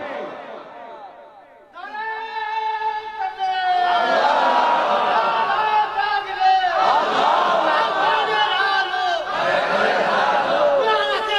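A political rally crowd roars a slogan in unison in reply to a takbir call, starting after a lone voiced cue and swelling into loud, sustained massed shouting in repeated waves.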